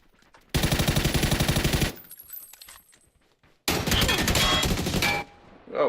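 Automatic gunfire in PUBG, played solo against squads on Xbox: two loud, close bursts of rapid shots separated by a short gap with quieter clatter.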